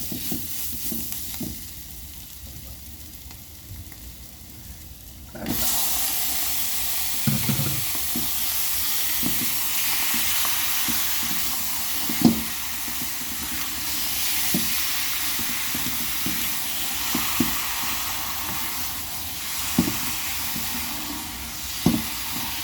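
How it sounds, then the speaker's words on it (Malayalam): Onions and chilies fry in a pan for a chicken liver fry, giving a steady close sizzle that jumps louder partway through, with occasional stirring scrapes and clinks over the hiss. "ഉള്ളിയും മുളകും എല്ലാം നല്ലപോലെ മൂത്തും"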